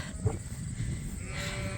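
Farm sheep being moved through chutes outdoors, with a brief bleat or call among low rumbling background noise from the animals and their surroundings.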